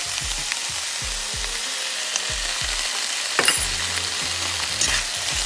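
Vegetables coated in jerk sauce fry in a pan under a steady close sizzle, with repeated low knocks and a sharper scrape of stirring near the middle, and no talking.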